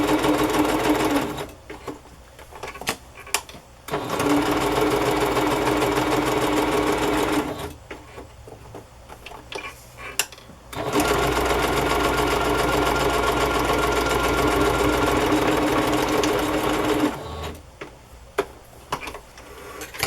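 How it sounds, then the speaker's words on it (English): A sewing machine runs a straight stitch around a piece of paper ephemera. It gives close, fast, mechanical ticking in three long runs, separated by short pauses with soft handling noises. "I'm going to sew all the way around just for looks with a straight stitch"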